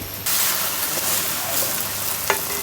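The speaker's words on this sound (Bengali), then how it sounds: "অল্প তেল দিয়ে ডিম ভাজি তো আস্তে আস্তে করে রাখতে হয়" An egg fries in a little oil, a sudden bright sizzle bursting in after a brief pause and holding as a steady close hiss, with one faint clink near the end.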